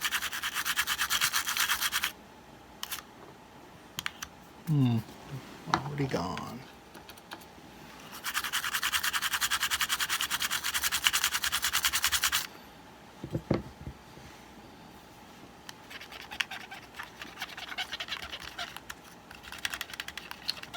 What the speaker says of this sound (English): we'll go ahead and hit these ones too with the toothbrush